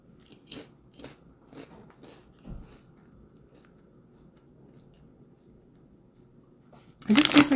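Rap Snacks barbecue-flavored chips crunch close up in several sharp bites spaced about half a second apart, a pause, then a loud burst of crunching at the very end.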